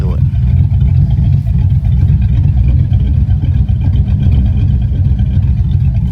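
Truck engine breathing through Flowmaster Super 10 single-chamber mufflers, a steady deep rumbling drone that holds loud and close throughout with a slight throb and no clear revving.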